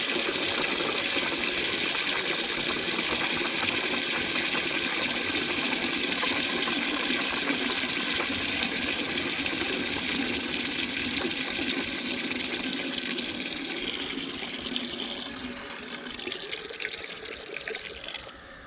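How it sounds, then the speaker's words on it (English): Water draining from a flexible garden hose, a steady close gushing flow that continues throughout and tapers slightly toward the end. "Just emptying out the hose."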